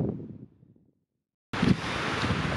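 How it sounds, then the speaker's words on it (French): Strong wind on a mountain ridge in the Vosges buffets the microphone. Faint rustling fades into a brief silence, then a loud, steady roar of gusting wind returns. "Il y a vraiment pas mal de vent aujourd'hui"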